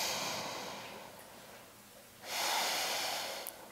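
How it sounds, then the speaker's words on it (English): Slow, deep breathing held in a downward facing dog yoga pose: a long, airy exhale and then a louder rushing inhale, close to the microphone with no talk. "I'm just breathing here."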